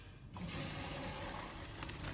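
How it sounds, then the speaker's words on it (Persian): Boiled rice being drained into a colander, a steady broadband rush of poured water and steam running almost continuously and fairly close after a brief quiet start. "وقتی به این مرحله رسید و قشنگ قد کشید آب کشش میکنیم."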